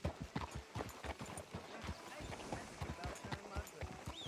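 Horse hooves clip-clop steadily in a rapid trotting rhythm in the video game Red Dead Redemption 2, close and clear, with faint background sounds and voices mixed in.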